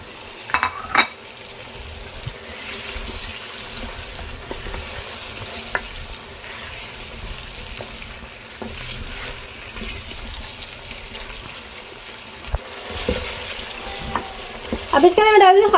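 Chicken for palak gosht frying in a pot, a steady loud sizzle with scraping stirs and occasional clinks of a utensil, continuing throughout and growing busier in the final moments.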